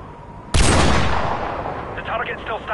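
One loud, booming rifle shot in Call of Duty: Modern Warfare Remastered during a sniper mission, its heavy tail rolling off over two seconds, with a voice starting up under the fading echo.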